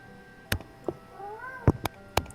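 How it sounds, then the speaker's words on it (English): A house cat meows several times in short bursts, the rising and falling calls fairly close and clear over a quiet room with no talking. "Sorry, my cat is being a jerk."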